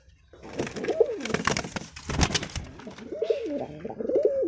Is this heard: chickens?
no